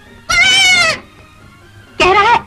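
A young goat bleats twice, loud and close, each call a wavering cry of under a second separated by a short quiet gap.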